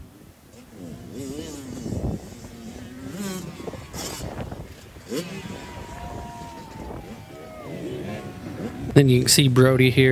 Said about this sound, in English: You can kind of hear his engine revving out.